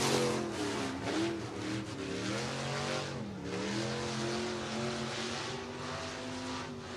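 A race car on a qualifying lap at Lake Cumberland Speedway in Burnside, Kentucky, its engine a loud, continuous roar with steady revving pitch shifts as it circles the track, no voices over it.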